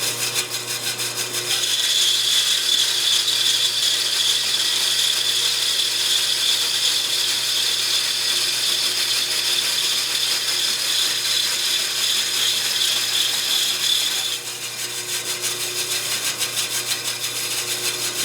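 A 1935 Speedxa bandsaw with a 14 blade cuts through 3/4 inch plate, producing a steady, dense grinding rasp with a high metallic whine, continuous and close for most of the clip and easing slightly near the end.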